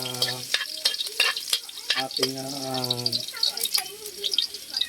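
Garlic sautés in a cooking pan as the base for blue marlin tinola, a steady close sizzle with stirring scrapes, while someone talks over it for the first few seconds.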